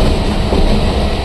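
Bangaon local train pulling out of the platform on the Sealdah line, a steady broadband rumble and rattle of the carriages filling the short clip without pause, close and moderately loud.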